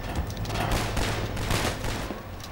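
Rapid bursts of gunfire from the first-person shooter Half-Life 2 crackle loudly and continuously over a low droning game background, with no talking.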